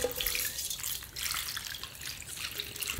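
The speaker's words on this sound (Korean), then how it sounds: "소금이 다 녹을 때까지 살살 위에서 이렇게 부어주세요." Salt water gently poured from above over greens for kimchi, a continuous splashing trickle with patters and drips, close and moderately loud, with no voices.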